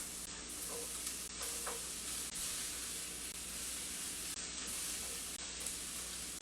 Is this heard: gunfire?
no